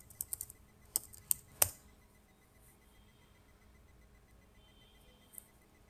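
A handful of quick computer keyboard clicks in an irregular burst, then a near-silent pause and one more tap, all faint and close.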